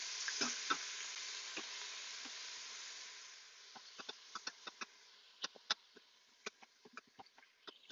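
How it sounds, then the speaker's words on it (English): Ground meat browns in a hot electric pressure cooker, a soft continuous sizzling hiss with scattered crackles and pops growing more frequent toward the end. "You can hear it sizzling"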